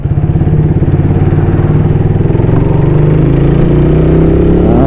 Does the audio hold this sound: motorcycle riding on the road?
yes